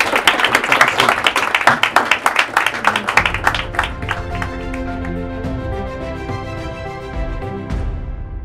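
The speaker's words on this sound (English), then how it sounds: "Give her a round of applause." An audience bursts into brisk clapping at a hypnosis show, loud and dense for a few seconds, then thins out as piano-like tones take over.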